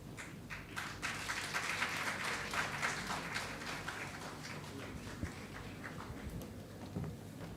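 An audience at a senior living and assistive technology event claps in a faint, dense patter from some distance, with no speech, the clapping thinning out toward the end.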